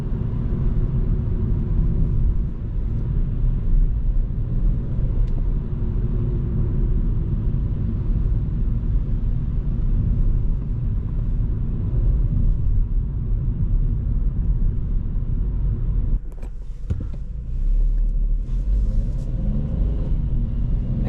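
A 2026 Kia Stonic GT Line hums along on a night drive, a steady low engine and road rumble heard from inside the cabin, briefly interrupted by a short disturbance near the end.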